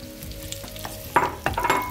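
Pieces of already-fried zucchini hit hot garlic-infused oil in a pan and sizzle, with crackling bursts as they are stirred, close and clear with no talking.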